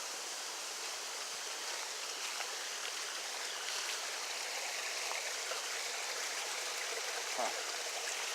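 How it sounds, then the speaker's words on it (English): Steady rushing water roars continuously from the top of a waterfall at Peachtree Rock in South Carolina, a dense even wash of noise with no breaks and nothing else standing out. "This is the top of the waterfall."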